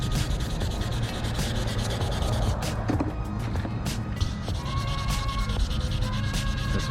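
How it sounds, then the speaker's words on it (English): Sandpaper rubs steadily back and forth over the painted lettering on a VW single cab truck, sanding through the paint with close, continuous scratchy strokes. "Just gonna go ahead and sand through a lot of this"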